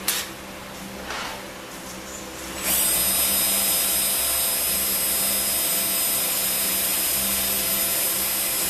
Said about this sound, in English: We're going to cross drill that passage there.